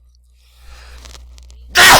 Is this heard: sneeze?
yes